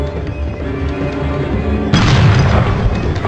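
A gunshot in Nosferatu: The Wrath of Malachi, a single loud booming blast that bursts in sharply after a stretch of low ambient rumble and rings on heavily.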